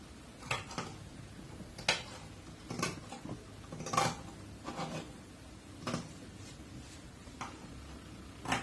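Scissors snip a row of small cuts along a stitched fabric seam of a face mask, about a dozen sharp, separate clicks at an uneven pace, close and fairly quiet, with no talking.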